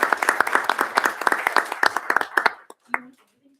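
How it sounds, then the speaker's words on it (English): A round of applause at a city council meeting, a crowd clapping briskly in a moderately sized room, individual claps audible, dying out after about two and a half seconds as a voice begins speaking. "So round of applause."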